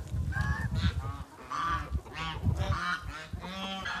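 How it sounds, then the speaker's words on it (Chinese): Geese honk repeatedly in loud, overlapping calls as a large goose bullies a smaller one in a fight, up close on a snowy hillside farm in northeast China. "这个大鹅欺负小鹅。"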